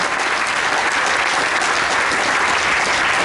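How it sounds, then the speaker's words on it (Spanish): A church congregation claps in a dense, even wash of applause during an evening worship service, sustained and loud throughout with no voices breaking through. "Leves aplausos al Rey de Reyes en esta noche"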